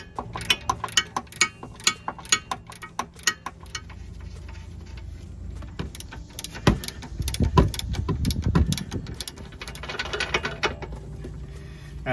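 Close ratchet clicks in quick bursts while removing 22mm and 19mm control arm mount bolts on a Toyota Camry, followed by heavier metallic clunks and scraping as parts shift.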